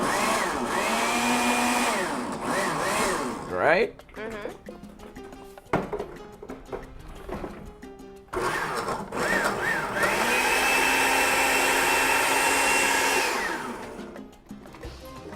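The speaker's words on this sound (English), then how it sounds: "A little more powerhouse on the blender." Kitchen blender whirring through a Grace Curry Goat recipe prep, its motor revving in long rising-and-falling bursts with brief pauses, loud and close, while a person speaks briefly between runs.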